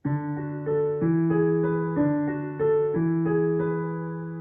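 Piano playing broken chords, notes struck one after another in a steady repeating pattern, clear and close with no voices.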